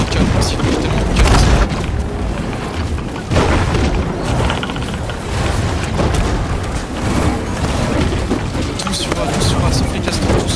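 Cannon fire in a large video game battle: a dense, continuous barrage of heavy booms and rumbling blasts, with a few louder impacts standing out and possible voices mixed into the din.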